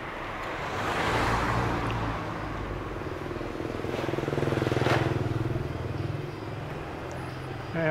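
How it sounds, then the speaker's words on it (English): Motorbikes pass along a busy Chiang Mai street in the Hai Ya district. Their engines rumble and swell as they go by at close to middle distance, over a constant traffic hum with voices faintly underneath. "Wow, look at all the motorbikes."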